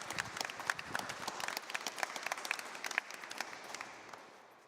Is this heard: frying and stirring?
no